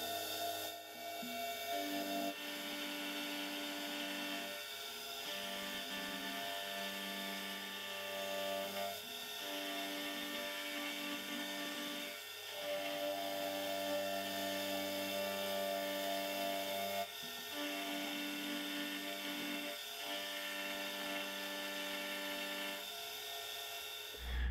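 A metal lathe turns and faces a part, giving a continuous droning machining hum with faint rasping that runs steadily, dipping slightly every few seconds, with no talking.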